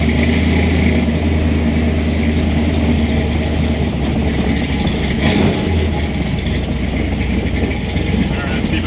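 A loud 1964 Chevy II engine roars steadily while driving, a dense continuous low rumble with broad road and wind noise filling the whole stretch without pause.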